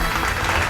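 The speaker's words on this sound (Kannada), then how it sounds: "ಜೋರಾಗಿ ಚಪ್ಪಾಳೆ ತಟ್ಟೋದ್ರ ಮೂಲಕ ಆಕೆನ ವೆಲ್ಕಮ್ ಮಾಡಿ." A short burst of dense audience applause greets a young girl stepping up to perform on a televised talent show. It is steady and broadband, with no talking over it.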